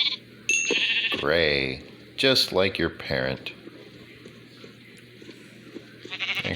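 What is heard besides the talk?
sheep bleating in Minecraft (video game)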